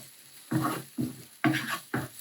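Four short bursts of scraping and patting as eggs with cheese are scrambled in a pan, each about a quarter second apart, close and moderately loud with a faint background hiss.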